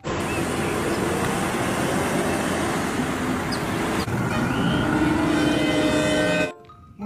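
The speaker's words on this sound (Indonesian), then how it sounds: "Mobil bus." A toy bus sound effect gives a continuous rumbling drone like road traffic, fairly loud and unbroken for about six seconds, then stopping suddenly.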